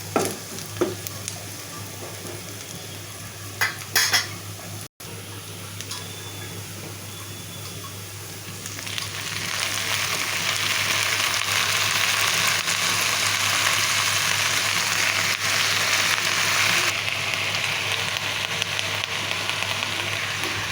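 Jute leaves frying with onion, chili and garlic in a pan, a light sizzle with stirring scrapes at first, then a loud steady hiss as the leaves hit the hot oil, continuing to the end.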